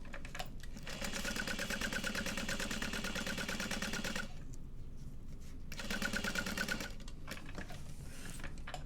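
Sewing machine basting fabric for a bowler bag, its needle stitching in a rapid steady chatter close by, pausing briefly midway before resuming at the same pace.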